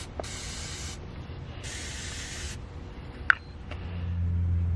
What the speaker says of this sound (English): After putting in the new battery, it's good to put a battery sealer, protect the terminals.